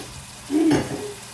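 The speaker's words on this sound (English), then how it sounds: "add a little bit of water" Water poured into a hot pan of enchilada filling, giving a short sizzling hiss that rises and fades within about half a second amid quiet kitchen background.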